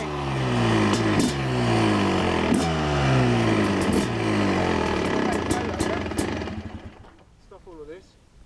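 A brand-new 2006 Suzuki RM250 two-stroke motorcycle engine revs loud and close, its buzzing note rising and falling in repeated sweeps before dropping away, with people talking over it toward the end.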